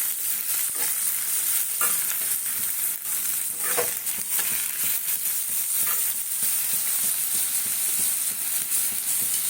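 Mixed vegetables including eggplant frying together in a pan, a continuous close sizzle with occasional stirring scrapes and light clinks.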